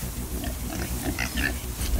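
Pigs on a pig farm, crowded around a dead pig and feeding on it, grunt continuously in a low, rumbling mass, fairly close and steady throughout with no voices.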